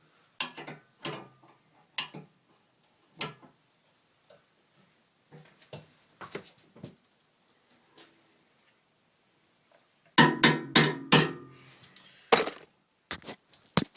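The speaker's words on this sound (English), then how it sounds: "I just took the wrench right there, threaded it on, held the bar down so I could tighten it up a little bit" Metal wrench clanks and ticks against a homemade threaded cam bearing puller, a string of sharp, separate clinks and taps, sparse at first then bunched into a louder burst of rapid metallic knocks near the end.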